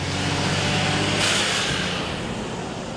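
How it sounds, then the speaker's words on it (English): Heavy traffic of 18-wheelers and industrial garbage trucks driving past, a loud, steady low engine rumble with a brief surge of hiss as one passes close. "where the sound of 18-wheelers and industrial-strength garbage trucks driving by is the norm"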